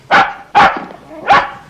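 A dog named Bobby barks three times, loud and close, in sharp evenly spaced woofs with brief pauses between them and no other sounds.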